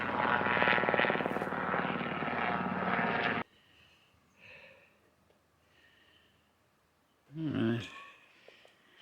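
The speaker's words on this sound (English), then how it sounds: "Sound of a helicopter overhead." A helicopter passes overhead above bushy countryside near Trento, Italy, its loud, steady rotor drone filling the first few seconds before cutting off. Quiet outdoor ambience follows, and a brief voice is heard near the end.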